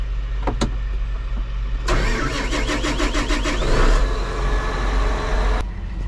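A cotton picker's engine cranks with a few quick turns of the starter and then catches, settling into a loud, steady idle close by.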